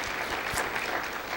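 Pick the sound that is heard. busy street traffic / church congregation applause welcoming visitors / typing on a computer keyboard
church congregation applause welcoming visitors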